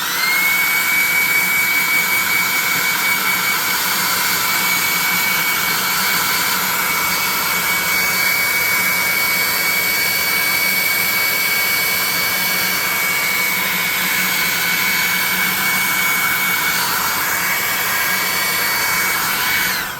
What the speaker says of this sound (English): we're going to hit him with the hairdryer